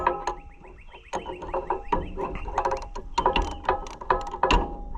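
A socket wrench ratchets on a Troy-Bilt machine in close, rapid bursts of clicking with metallic clanks and tool knocks. The repeated irregular strokes stay loud from start to finish.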